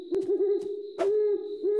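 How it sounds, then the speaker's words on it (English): Owl hooting in the children's cartoon Toopy and Binoo, a steady low wavering hoot repeated in quick succession with brief bright clicks and rustles between, close and clear. "It's an owl!"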